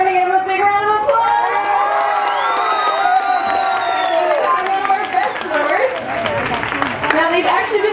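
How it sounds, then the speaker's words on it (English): An audience at a tiger show cheers and whoops loudly, with applause and crowd voices swelling together for several seconds. "we're going to give him a big round of applause"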